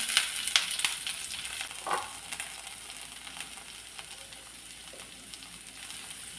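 Onion, shallots and curry leaves frying in a pan for a brinjal stir-fry, a steady close sizzle with a few louder crackles and spatters early on, continuous and without talk.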